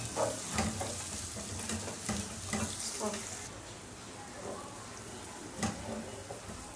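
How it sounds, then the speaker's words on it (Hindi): Garlic-ginger paste frying with golden-brown onions for fish biryani, giving a soft, steady sizzle broken by a few spoon stirs and clinks, quiet and close, with no talk. "इसके अंदर अब हम डालेंगे लहसुन अदरक का पेस्ट, और इसको तकरीबन हमने 2 मिनट तक फ्राई करना है"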